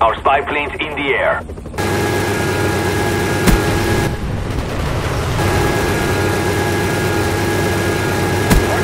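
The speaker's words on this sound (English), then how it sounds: "Our spy plane's in the air." Spy plane overhead in Call of Duty Black Ops, a continuous engine drone filling the scene at steady loudness, with a few sharp cracks of gunfire mixed in.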